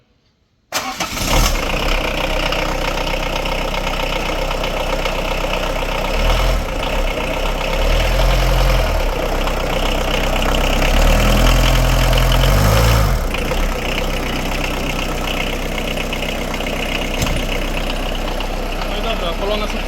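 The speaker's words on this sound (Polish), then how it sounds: "odpalił, jak widzieliście po kilku miesiącach bez problemu" A 1995 FSO Polonez Caro 1.9 GLD diesel, right-hand drive, starts after glow-plug warm-up and months of standing, cranking briefly then settling into a steady, loud, close diesel idle, with someone talking over it.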